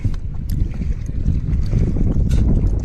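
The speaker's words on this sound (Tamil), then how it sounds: "நடுக்கடலுக்குள்ள இயற்கை காற்றை பாருங்கள்" Strong sea wind buffets the microphone aboard a small fishing boat out at sea, a loud, continuous roar and rumble with no pause.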